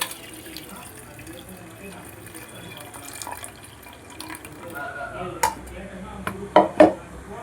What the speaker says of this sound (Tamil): இப்போ இந்த தண்ணியை வடிச்சிட்டு நம்ம இந்த பருப்பு மத்தால கடைஞ்சிக்கலாம்